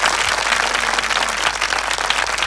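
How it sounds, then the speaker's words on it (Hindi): Audience applause at a church gathering in praise of the Lord, a dense, loud, steady wash of clapping from a large crowd. "और एक बार बजाएंगे प्रभु के लिए ताली"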